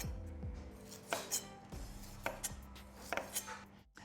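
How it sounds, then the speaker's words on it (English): A knife slices through a peeled piece of fresh ginger on a cutting board in a kitchen, giving several crisp, uneven chops close by with brief pauses, no talk. "And just to help our blender out, just slice it up."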